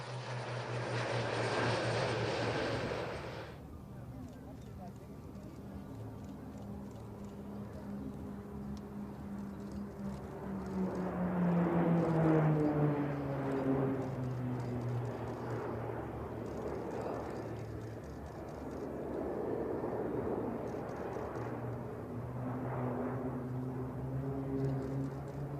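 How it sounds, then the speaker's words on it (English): A Polish-built PZL-130 Orlik turboprop trainer flies at an airshow in Malta, its steady propeller drone rising and falling in pitch as it passes, with a sharp whooshing sweep near the middle and no speech. "The Orlik team flies the PZL-130 Orlik turboprop trainer, an aircraft designed and built in Poland."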